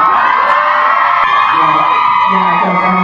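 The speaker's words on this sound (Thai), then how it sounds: "ตอนนี้ให้กรี๊ดได้เต็มที่แล้วกรี๊ดก่อนไหมกรี๊ดก่อนไหม" Crowd of fans at a Thai drama series press conference screaming in a sustained, loud, high-pitched roar that holds steady without break, with a voice speaking over it.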